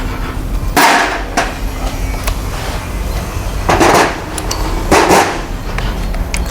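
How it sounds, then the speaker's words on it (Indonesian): A hammer knocks on an automatic transmission case being opened in a workshop. A few sparse, heavy blows land several seconds apart, close and fairly loud, with lighter clicks in between. "Kita buka palu pelan-pelan."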